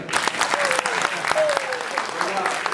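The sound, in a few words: audience applause after a poetry recital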